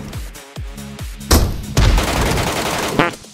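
Rapid bursts of gunfire in a PUBG-style battle royale video game, with several quick shots early on followed by a dense, loud volley of close shots.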